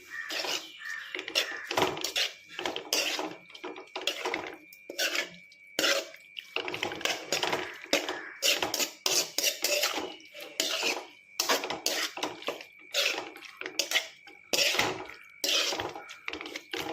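Squid curry being stirred in a pot with turmeric and salt, a utensil repeatedly scraping and clinking against the metal in an uneven rhythm, close and fairly loud, with no talking.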